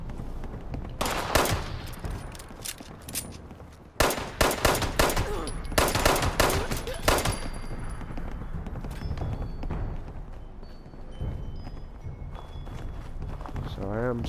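Gunfire in the Fallout 76 video game: loud rapid bursts of automatic fire in two clusters, then a softer, busier stretch of game sounds with scattered impacts and a steady background bed.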